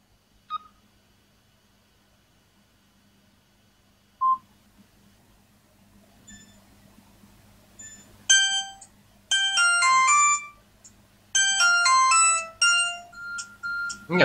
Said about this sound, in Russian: какой-то звонок слабенький проходит